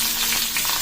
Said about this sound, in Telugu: ఆయిల్ వేసుకొని పచ్చిమిర్చి వేసుకుందాము.